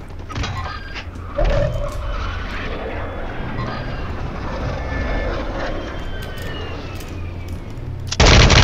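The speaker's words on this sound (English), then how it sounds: "Someone on the top shooting down at us." Gunfire in Call of Duty MW3 Resurgence Quads on Rebirth Island rattles in sustained automatic bursts, with a sharp louder volley early on and another close, heavy burst at the very end.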